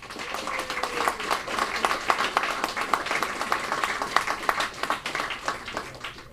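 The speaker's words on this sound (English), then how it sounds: "So let's give a really big round of applause for Bandura." Audience applause at the 2018 Mind Sports Olympiad award ceremony, honouring sponsor Bandura: a dense, steady wash of many hands clapping throughout, fairly close and even in loudness.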